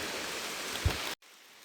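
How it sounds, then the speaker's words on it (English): Heavy rain falling in a forest, a dense steady hiss of drops close by, cutting off abruptly near the end to a much quieter background. "It's starting to rain pretty hard."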